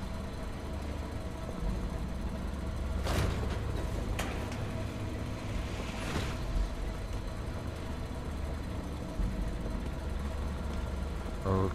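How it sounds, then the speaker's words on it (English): Steady mechanical hum and rumble from a paint machine in the horror game Poppy Playtime, with a few brief clanks and hisses over the continuous drone and no talking. "What's with all the mechanical noise?"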